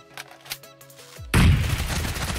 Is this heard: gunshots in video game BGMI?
yes